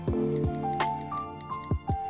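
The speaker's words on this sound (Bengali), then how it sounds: "জল দিয়ে ভালো করে মশলাটাকে গুলে নিচ্ছি" Turmeric, coriander and cumin powders being mixed with a little water into a paste, heard as a few close, wet squishy taps of a spoon in a small bowl, quiet and irregular.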